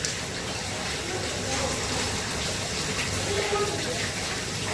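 Water poured from a vessel onto washed rice being prepared for Gujarati-style rice, a steady broadband splashing and trickling that runs unbroken and close for the whole stretch.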